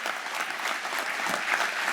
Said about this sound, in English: So one more round of applause for everybody that has something to do with the Athletic Hall of Fame